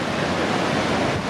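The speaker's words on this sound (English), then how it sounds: "it just feels so much more impressive as the water thunders over" Yellowstone's Lower Falls roars as a steady, dense wash of thundering water, loud and continuous with no voices over it.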